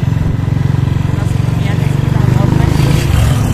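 A motorcycle engine rumbles close and loud with a rapid, even throb as it rides along, rising slightly near the end.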